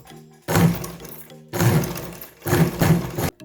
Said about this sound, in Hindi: ये इलेक्ट्रिक मशीन है इसलिए ये तेज़ी से चलेगी